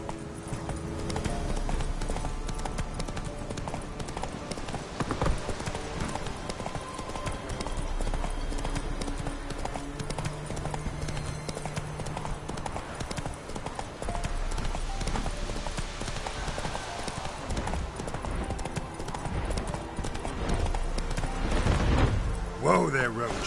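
Hooves of the horse Roach clatter in a fast galloping rhythm in a video game, running steadily under a voice, with occasional louder thumps and effects mixed in.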